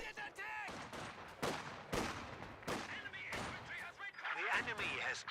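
MG42 machine gun fire in Company of Heroes 2 mixed into a busy battle soundscape of repeated gunfire bursts and impacts, with a voice talking over the action.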